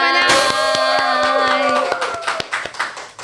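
Audience clapping for a guest arriving on a studio podcast, heard as a run of crisp hand claps over a ringing musical jingle that fades out near the end.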